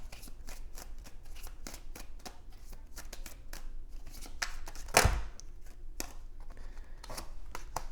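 Tarot cards are shuffled by hand close up, with a steady run of soft crisp riffles and flicks and one sharper slap near the middle, with no talking.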